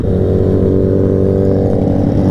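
Two white Suzuki Hayabusa big bikes pass close by, a loud, continuous engine drone with strong low harmonics that stays steady throughout, with no voices.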